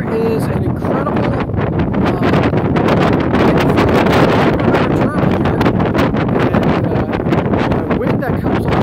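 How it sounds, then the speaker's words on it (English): Strong, steady wind blowing in off the Taiwan Strait, buffeting the microphone with a loud, continuous roar and rumble throughout, with gusty rustling texture and no pauses. "This is a firm wind. You can kind of see and hear it."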